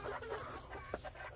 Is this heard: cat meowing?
no